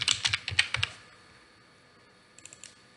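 Typing on a computer keyboard while writing in Microsoft Word: a quick burst of close keystroke clicks, a pause of near silence, then a few more taps.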